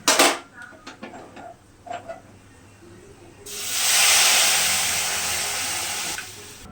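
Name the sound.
bay leaf sizzling in hot oil for tempering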